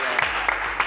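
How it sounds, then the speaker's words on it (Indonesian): Brief burst of classroom applause: a short, dense patter of hands clapping together, steady and fairly loud for under a second. "Ya, beri tepuk tangan."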